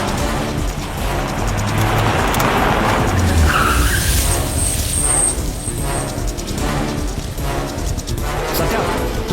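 A car speeds off fast in a tense film chase scene, with tires skidding and squealing over a loud, continuous roar of engine and road noise, without any voices.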